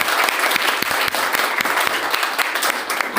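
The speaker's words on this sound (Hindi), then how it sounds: "एक बार जोरदार तालियां सर के लिए।" An audience breaks into loud, steady applause, dense clapping that fills the room without a pause and with no voices over it.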